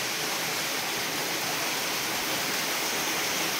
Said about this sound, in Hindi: नीचे पानी गिर रहा है देखिए।